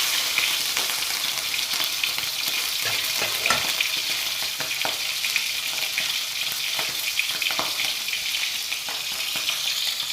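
Mackerel sizzles and spits steadily in a hot pan of oil for several seconds, with occasional scraping and shifting as the fish is flipped.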